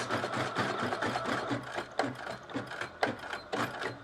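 Embroidery machine stitching tatted Christmas ornaments, a rapid rhythmic mechanical clatter that continues steadily up close throughout, with no voices.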